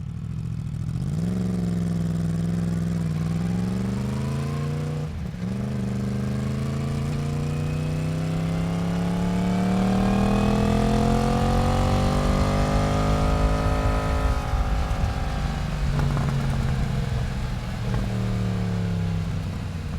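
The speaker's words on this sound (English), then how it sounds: "This is my Yamaha MT-10 and you've just been listening to the standard exhaust sound." A Yamaha MT-10 motorcycle with its standard exhaust runs nearby, the engine rising and falling through several revs with a deep, throaty drone that climbs smoothly in pitch and then settles back, loud and continuous throughout.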